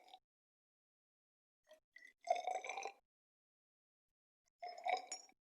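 Purple cabbage indicator liquid poured into a glass container, with two short bursts of gurgling pour and light clinks of glass separated by silence, close and fairly quiet.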